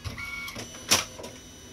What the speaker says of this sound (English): I'm going to go over to the printer. I'm going to kind of feed it through.